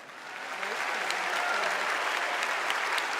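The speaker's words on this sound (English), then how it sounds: "Delegates applaud." Delegates at the Democratic National Convention applaud in a large hall, the clapping swelling from a softer start into a broad, sustained roar of many hands, heard from a distance.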